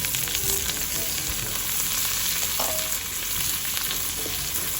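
Balaw shrimp paste fries in a pan, giving a steady close hiss of sizzling oil with occasional faint pops and clinks, no talking over it.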